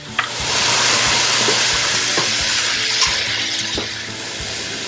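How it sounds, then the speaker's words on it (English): Red wine vinaigrette poured over frozen sweet corn cooking in a hot pan, a loud steady sizzle and hiss up close with light clinks and stirring, no voices. "I'm going to pour in 2 tablespoons of red wine vinaigrette."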